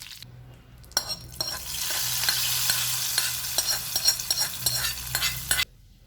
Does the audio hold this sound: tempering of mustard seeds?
yes